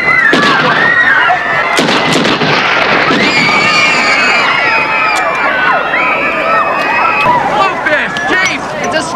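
Gunfire from the Jaws 2 film rings out on a crowded beach as a police chief fires at fish, with loud sharp shots followed by a panicking crowd screaming and shouting in a busy, echoing mix.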